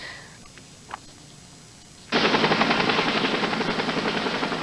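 A medical air ambulance helicopter's rotor chops in loudly and steadily after a quiet start, a dense rhythmic thumping that stays close and strong.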